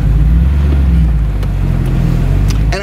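A 1979 MGB Roadster sports car pulls away, its engine a loud, steady low rumble with a few faint clicks, no voices over it.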